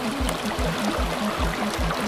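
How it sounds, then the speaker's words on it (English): Lake water drains down a mountain stream on a scramble route, producing a loud continuous rushing flow close by, with a steady low rhythmic pulsing underneath. "water from the lake drains"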